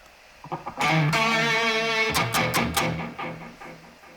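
An electric guitar plays a sustained lead line with a few plucked notes, the tones ringing out and trailing off into a roomy reverberant tail.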